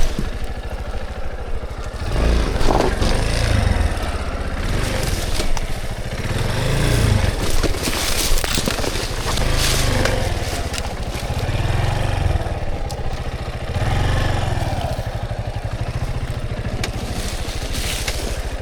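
Dirt bike engine revving and labouring hard on a rough, log-strewn hard enduro mountainside trail, loud and close with uneven throttle bursts and mechanical clatter throughout, no voices.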